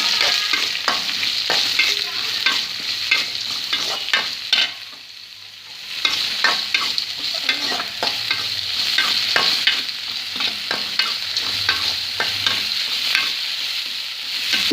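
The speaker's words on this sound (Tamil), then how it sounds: "அடுத்து வெங்காயம் போட்டுக்கோங்க. வெங்காயம் நல்லா செவந்து வதங்கணும்." Onions fry with curry leaves in a pan for a potato masala, sizzling steadily under repeated scraping stirs, with a brief lull midway.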